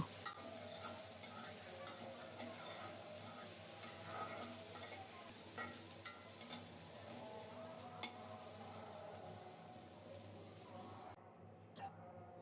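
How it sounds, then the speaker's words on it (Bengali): Yardlong beans, green chilies, garlic and onion stir-fried in a pan make a continuous quiet sizzle with frequent scraping stirs and clicks across the stretch, faint and near, fading out at the very end. "পেঁয়াজ দিয়ে অল্প কিছুক্ষণ নেড়ে ছেড়ে ভেজে নেব"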